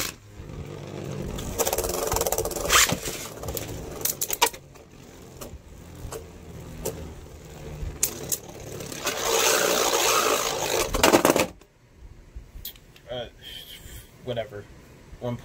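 Beyblades World Spriggan, spinning left in defense mode, and King Helios grind and scrape against each other in a plastic stadium, a rough rattling whir that comes in bursts and ends abruptly, with a voice talking over parts of it.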